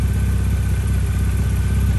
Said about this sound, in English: at least the exhaust is quieting down there anyway